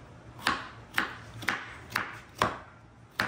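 A knife chopping cucumber on a cutting board for crab ceviche, six evenly spaced crisp chops about half a second apart, close and clear with no speech.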